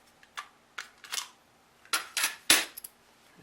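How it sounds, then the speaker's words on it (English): Small metal clicks and ticks from unscrewing a tiny screw on a spinning reel during cleaning, a few brief close taps spaced irregularly with quiet gaps, no talk. "So I'm just going to take out one of my screws."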